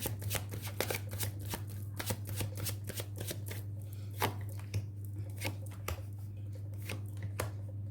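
Tarot cards shuffled steadily by hand during a reading, a continuous run of soft riffling flicks and taps close up, with a low steady hum underneath and no talking.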